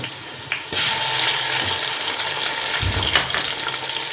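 Onions frying in a pan as ginger garlic paste is added, a continuous broadband sizzle after a soft thump, with occasional low knocks from stirring and no talking.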